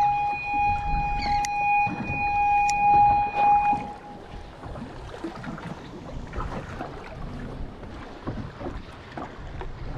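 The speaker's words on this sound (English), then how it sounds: "the trolling motor's working overtime." An electric trolling motor on a fishing boat gives a steady, thin tonal whine for about four seconds, then fades out, leaving wind buffeting and water noise around the hull.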